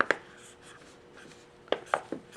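A marker writing on a Mylar bag filled with salt or sugar: faint scratchy strokes and a few sharper taps and crinkles of the bag, quiet and close.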